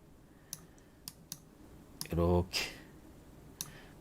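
A few sharp, isolated clicks come from Tab key presses on a computer keyboard, spaced about half a second apart and close up, with a brief burst of other sound in the middle.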